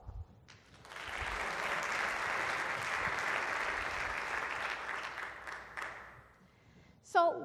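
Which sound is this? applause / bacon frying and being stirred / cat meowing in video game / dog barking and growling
applause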